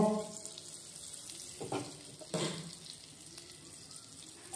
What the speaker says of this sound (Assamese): ব্ৰকলিখিনি যিখিনি মই অলপ বইল কৰিছিলোঁ অকণমান ভাজি ল'ম